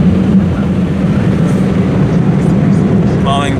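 Powerful car wash drying blowers at a Motor City Works wash in Christchurch, New Zealand, produce a loud, steady, broadband roar that persists throughout, with a voice speaking over it.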